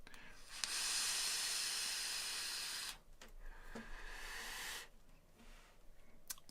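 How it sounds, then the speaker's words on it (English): Kylin M AIO vape with a dual coil at 65 watts and airflow wide open, giving a soft, steady airy hiss while drawn, in two or three long pulls separated by short pauses. "It's a vape."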